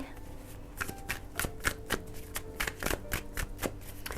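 Tarot cards are shuffled by hand during a reading, giving a run of quick, crisp riffling bursts and soft slaps close by, repeating irregularly over a quiet room.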